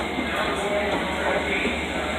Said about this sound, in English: So here you go, there's the Babylon train.